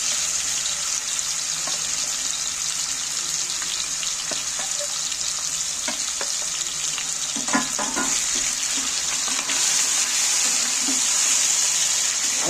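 Yogurt-marinated chicken frying and being stirred in hot oil for biryani, a steady broad sizzle with watery hiss throughout, broken by occasional soft scraping and clinks of the stirring spoon, close and continuous with no talk.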